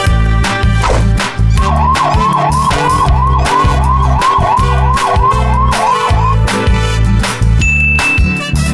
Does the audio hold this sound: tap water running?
no